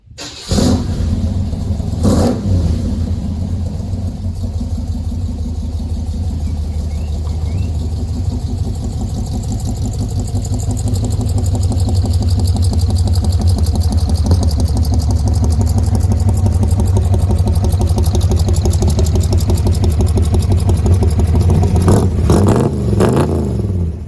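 A car, freshly reassembled after repeated problems, is driven out with its engine running steadily and revving, a loud continuous mid-pitched drone that swells slightly partway through before dropping off at the end.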